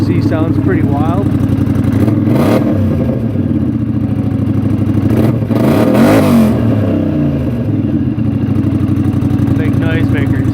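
Polaris Sportsman 1000XP ATV fitted with a loud RJWC exhaust idles heavily up close, blipped twice into sharp revs that rise and fall back to a deep, throbbing idle.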